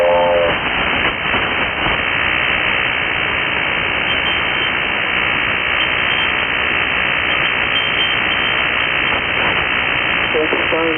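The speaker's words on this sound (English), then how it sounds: "Did you hear the train?" Train sounds carried over an AM ham radio transmission, with a rumbling rail noise and whistle-like tones inside constant band-limited radio hiss, while people talk over it.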